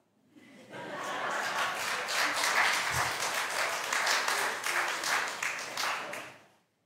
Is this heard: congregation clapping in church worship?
yes